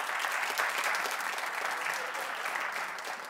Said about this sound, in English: Clap if you know who that is authentically.